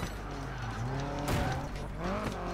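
A car drifts in the racing video game Project Gotham Racing 4, its engine droning steadily while tires squeal in wavering, rising and falling tones over about two seconds.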